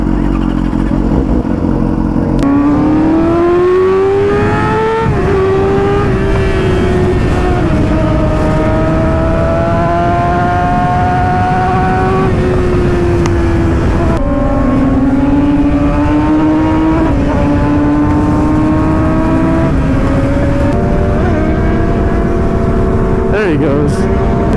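A superbike on a California road rises and falls in pitch through repeated loud, revving accelerations as it pulls away past the rider, with engine and wind noise steady throughout and someone talking over it.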